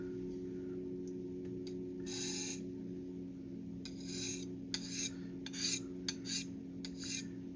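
Knife edge drawn across a White Ivory natural whetstone in repeated scraping strokes, irregular bursts of gritty rasping over a low steady hum, close and fairly quiet.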